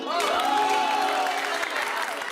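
Audience applause in a sitcom scene, a dense, steady wash of many hands clapping at moderate volume, with a faint voice or cheer mixed in.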